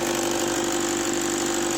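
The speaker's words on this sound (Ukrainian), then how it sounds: "Так, ну все, двигун запустили" A car's diesel engine runs steadily just after starting, following a jump start with a portable booster pack during fuel injection pump replacement; an even mid-pitched idle hum holds close and loud throughout, with no talk over it.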